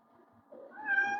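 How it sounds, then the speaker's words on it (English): A house cat meows once, a rising then steady tonal call that swells in loudness over about a second, heard close and alone with no talk. "That's my cat meowing this time"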